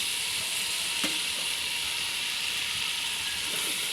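Taro flowers hitting a hot pan with dried fish and spices, a steady close sizzling hiss with a brief clatter near the start and faint stirring scrapes, no voices.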